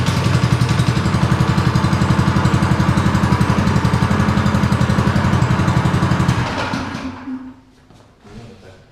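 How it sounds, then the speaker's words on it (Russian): A Veles Mini Moto off-road motorcycle with a general-purpose engine runs loud and close with a steady, rapid putter, then cuts out near the end, leaving faint residual noise. "И заводится, как все двигатели общего назначения."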